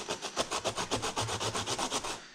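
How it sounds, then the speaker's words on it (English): Carrots being grated by hand on a grater, a steady rhythmic rasping of about fifteen strokes in quick succession, close and fairly loud, with no talking. "I never knew that grating carrots would be such a pain."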